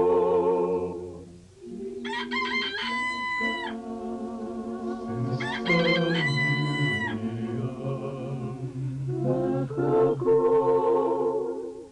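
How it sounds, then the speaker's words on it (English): A rooster crows loudly and close by in several long, drawn-out calls, with clucking fowl between the crows. "Cock a crow, Peter gone."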